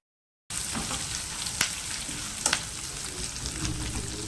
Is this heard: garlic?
yes